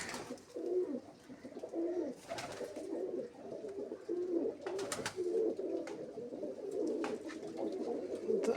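Pigeons kept at home coo close by in soft, repeated low rolling phrases, several birds overlapping, with occasional light rustles and clicks in between.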